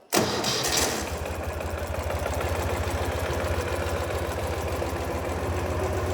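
A 2015 Ural Gear Up 2WD motorcycle engine cranks and fires up, then settles into a steady, throbbing idle, loud and close.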